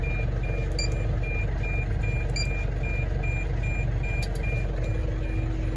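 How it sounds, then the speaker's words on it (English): A steady series of short, evenly spaced electronic beeps from a tractor's Väderstad Rapid seed drill control system warns of low fertilizer, repeating over a constant low engine rumble, with no talking. "There's a lot of beeping going on here."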